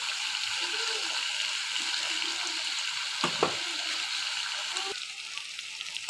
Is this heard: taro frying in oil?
yes